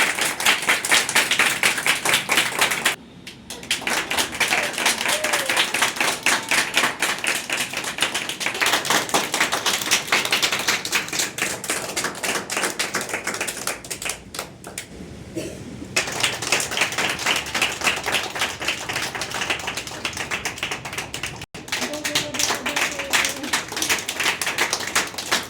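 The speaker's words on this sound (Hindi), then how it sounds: "जोर से ताली बजाओ।" Audience at a social welfare organization's office event in Delhi clapping loudly and steadily, a dense patter of hands with a couple of brief pauses.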